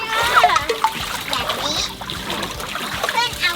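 Water from a shower head splashes and trickles as children play with a red bucket. Children's voices and talk run over the splashing throughout.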